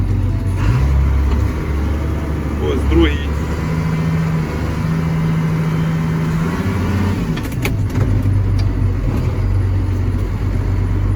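A John Deere 7600 tractor engine runs steadily at a low rumble while gears are shifted, with a brief tonal whine midway and a faint clunk near the end; someone talks over it.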